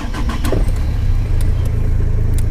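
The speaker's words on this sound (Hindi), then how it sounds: "चलिए गाड़ी स्टार्ट करते हैं।" Tata Vista diesel car engine running loudly just after starting, its intercooler opened, giving a steady heavy low rumble with extra mechanical noise throughout, close by and alone.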